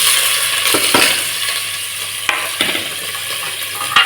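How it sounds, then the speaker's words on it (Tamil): Chopped onions and green chilies fry in hot oil for mint rice, giving a steady close sizzle with several scraping stirs and light clinks of a spoon against the pan. "இப்போ நம்ம நறுக்கி வச்சுருக்க வெங்காயத்தையும் பச்சை மிளகாயும் இதில் சேர்த்துக்கலாம்."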